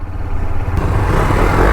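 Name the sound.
motorcycle riding past while doing a wheelie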